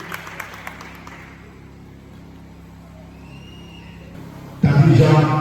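After a quiet hall with faint background noise, a sudden burst of audience applause breaks out near the end at a children's awards event in Haiti.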